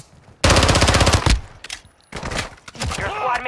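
Video game gunfire erupts in a loud, dense burst of rapid automatic shots lasting about a second, then returns in scattered shorter volleys and bursts with clattering effects, close and dominant.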